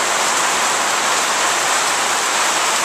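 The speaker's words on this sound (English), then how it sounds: "Here we have a typical Amazonian downpour." Heavy Amazonian rain downpour behind a hospital, a dense, steady roar of falling water that stays loud and unbroken throughout, with no voices over it.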